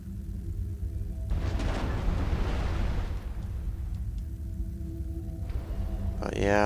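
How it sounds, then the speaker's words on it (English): Cannon fire in the strategy video game Planetary Annihilation: a broad, dull booming rumble swells through the middle of the clip over a steady bed of game ambience. "This cannon's shooting, but this cannon's not."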